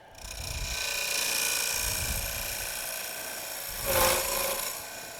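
A wood-turning gouge cuts a bowl on a lathe, giving a steady scraping hiss with a brief louder rasp partway through, close and alone.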